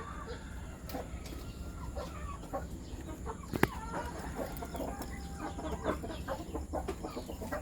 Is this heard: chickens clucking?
yes